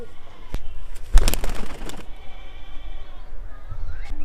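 Pigeons kept in a loft, one recently trimmed of its cut wing feathers, coo and flutter close by, with a burst of wing flapping and scuffling partway through amid a soft, steady room background.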